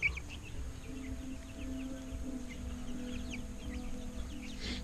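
Hens and a rooster clucking in an outdoor coop, with scattered soft clucks and chirps over a low steady background hum, fairly close and moderately quiet.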